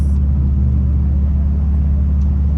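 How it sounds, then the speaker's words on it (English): Inside a previously broken-down van making its first drive in weeks, a loud, constant low engine and road rumble drones without a break. "We're in a moving car, not a bus."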